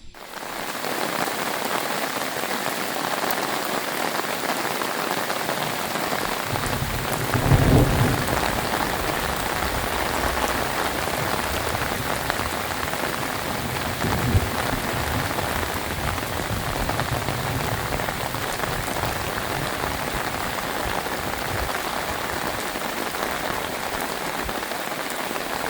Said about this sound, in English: When it's pouring down raining, they sit up under this little shed.